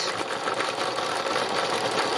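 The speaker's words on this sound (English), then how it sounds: "Just by pulling the wheel round on your sewing machine, it lets the needle go up and down" A home sewing machine runs steadily as its hand wheel turns, driving the needle up and down in a fast, even mechanical whir with no voices.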